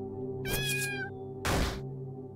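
Power Cat move sound effect from the video game LISA: a close, clear cat meow with a rising, wavering pitch, followed a moment later by a short, harsh noisy burst.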